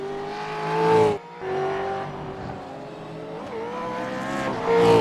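Race car engines in a sim racing game at Sonoma, a high whining buzz that swells and drops with gear changes and passes, loud and close throughout.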